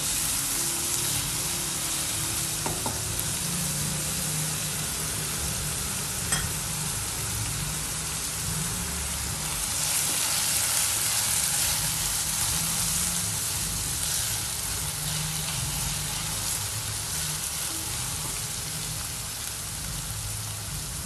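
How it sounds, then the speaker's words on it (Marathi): Onions frying in oil in a pan for a dhaba-style spicy okra (bhindi) dish, giving a steady, close sizzle and crackle that runs throughout with small shifts in intensity. "थोडा कलर चेंज होईपर्यंत कांदा भाजून घेऊया आपण। छान तेलामध्ये परतून घेऊ।"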